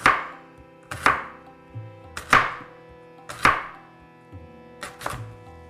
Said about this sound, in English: I'm going to do some really thin slices because it's really important that these get cooked all the way through